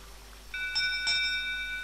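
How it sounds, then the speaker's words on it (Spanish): A small bell rung in the video game Jack Keane gives a single bright, clear chime that rings out and slowly fades, heard alone and up close. "Vamos a tocar el timbre."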